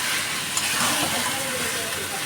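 Meat being fried down into a thick kosha masala in a home kitchen, a continuous close sizzle and crackle with a faint stirring texture, steady and moderately loud with no break.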